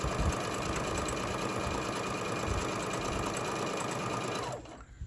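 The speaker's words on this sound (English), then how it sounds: "I'm just going to sew going around." A sewing machine stitching around the edge of a fabric Santa sack runs steadily and close at full speed for several seconds, then stops abruptly near the end.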